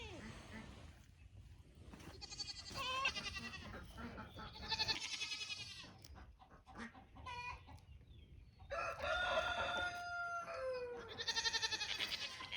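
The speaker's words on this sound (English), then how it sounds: "Caleb, I've got to tend to the goats." Goats bleat repeatedly on a small homestead farm, wavering cries in several bursts, mixed with chickens clucking and a rooster crowing nearby, all fairly close and moderately loud over a faint outdoor background.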